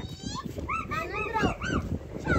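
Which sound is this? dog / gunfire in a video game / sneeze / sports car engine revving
dog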